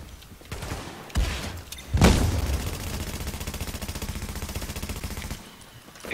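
Gunfire and a grenade explosion in the video game The Division: a couple of sharp early shots, then a heavy boom followed by sustained rapid machine-gun fire that runs for several seconds before cutting off.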